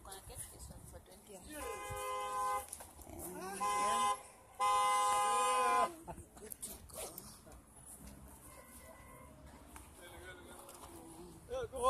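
Street traffic in town with two long, loud car horn blasts several seconds apart, over a steady background of vehicles and voices talking nearby.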